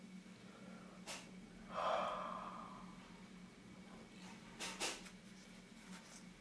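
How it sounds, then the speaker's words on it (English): Quiet puffs of breath are blown onto a Canon FL 50mm f/1.8 lens to clear haze, with a soft, longer exhale near the start and a few short, sharp breaths later, close and alone. "But how about breathing on it?"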